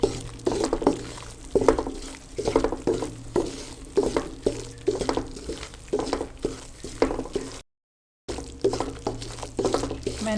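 Egg halwa roasting in a pan over medium heat while a spoon stirs it without pause: a steady rhythm of scraping strokes over a soft sizzle, with a brief dropout near the end.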